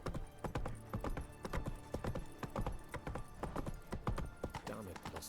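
Geralt's horse Roach gallops in The Witcher 3: Wild Hunt, a fast, rhythmic run of hoof clip-clops carried over a game ambience and music bed.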